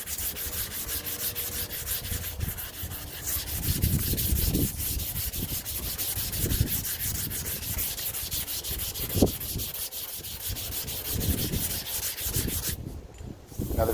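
Hand sanding of Fox body Mustang bodywork with grit paper, a continuous loud abrasive rubbing that swells and fades in rough back-and-forth strokes for the whole stretch, close up with no talking.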